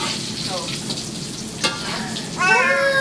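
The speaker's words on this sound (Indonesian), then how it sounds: "ini ya kita goreng ya sampai matang" Cireng, fried tapioca snacks, sizzle steadily in hot oil with a constant crackling hiss, close and fairly loud, with a brief scrape partway through.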